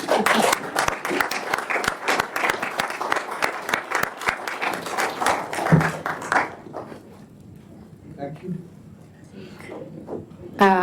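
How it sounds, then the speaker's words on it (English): An audience at a book discussion claps for a speaker, a dense round of applause lasting about six seconds before it stops abruptly, followed by quieter scattered sounds and a voice speaking. "please give a round of applause to Dr. Das"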